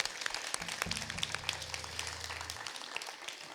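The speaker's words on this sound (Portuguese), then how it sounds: "vamos aplaudir ao Senhor." A church congregation applauds together, a dense, fairly quiet patter of clapping over a sustained low organ-like tone that holds for a couple of seconds before the clapping thins.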